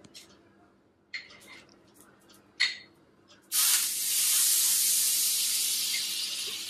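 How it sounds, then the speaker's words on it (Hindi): Oil is poured into a hot buttered pan for pav bhaji. A few faint clinks come first, then a loud hissing sizzle bursts in and holds steady to the end. "अब मैं यहां ना हल्का सा हल्का सा तेल डाल रही हूँ क्योंकि बटर थोड़ा सा ये हो जाता है"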